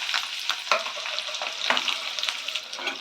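Green chillies fry in oil with mustard seeds and cumin, giving a close, busy sizzle broken by rhythmic scrapes and taps of a stirring spoon, with no talking.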